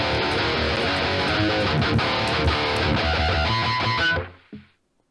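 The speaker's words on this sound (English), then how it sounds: "But Vadim made us a pedal called Ugritone. It gives you the chug chug" An electric guitar runs through an amp simulator boosted by the Ugritone chug pedal, delivering tight, heavy distorted riffing with sharp palm-muted hits that stops after about four seconds, leaving a short decaying thump.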